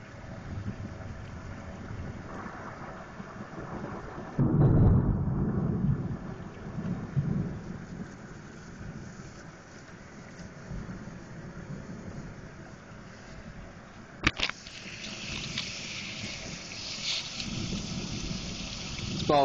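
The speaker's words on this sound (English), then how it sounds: "it's big old fat rain and it's just pouring off the rooftop" Heavy, fat-drop rain pours off a rooftop during an early-morning thunderstorm in Galveston, a steady roar with a low rumble of thunder swelling near the start and a sharp crack later.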